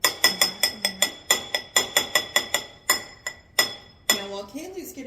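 A knife scrapes blueberry buckle coffee cake batter back into a bowl, ringing out as a quick series of sharp metallic clinks that pauses, resumes, then gives way to a voice.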